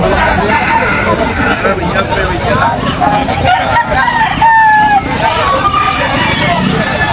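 Several roosters crow loudly and repeatedly over a dense, noisy crowd babble, with clucking chickens mixed in, at a busy Saturday pet and poultry market in Malabon.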